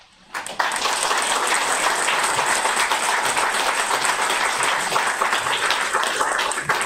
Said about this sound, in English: Round of applause for all our poets